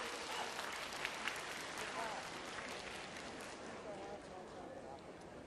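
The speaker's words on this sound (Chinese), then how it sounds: "掌声请出我们的越剧名家" An audience applauds to welcome Yue opera performers onto a theatre stage, with dense, steady clapping that continues evenly from start to end. The applause sounds fairly distant and fills the hall.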